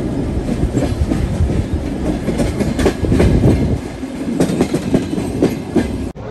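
The slow train from Kutaisi to Tbilisi in Georgia rolls along with a loud, close rumble and repeated clickety-clack from its wheels on the rails, heard steadily throughout without voices.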